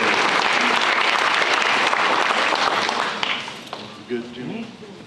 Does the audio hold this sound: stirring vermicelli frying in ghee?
no